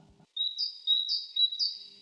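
A small tit with a lemon-yellow belly split by a black stripe and white cheeks sings a clear, high, repeated phrase of about three notes, close and alone after a brief low murmur at the start.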